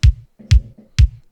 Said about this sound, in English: bass drum